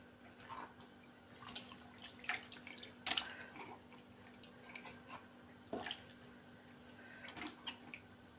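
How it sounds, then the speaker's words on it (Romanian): Water goes into a jar of gogoșari and kapia peppers being cold-pickled for winter, used in place of brine: soft, intermittent splashes and drips, quiet and close, with gaps of near silence between them. "în loc de saramură punem apa cu rezultat de la ei."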